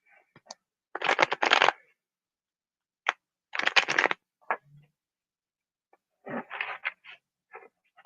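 Tarot cards being shuffled for a reading give several short, crisp riffling bursts close to the listener, separated by quiet gaps, with a few light taps and card slides between them.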